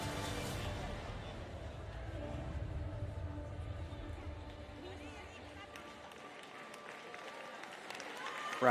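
Spectators at a wheelchair tennis men's doubles semi-final, Great Britain against France, clap and cheer in a steady, full wash of crowd noise that carries through with a voice over it.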